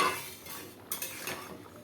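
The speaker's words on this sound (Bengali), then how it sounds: "নেড়ে নেড়ে দিচ্ছি।" A spatula scraping and clinking against a pot while stirring dal cooked with bitter gourd, a few quick metallic taps and scrapes, fairly quiet and close, with no talk.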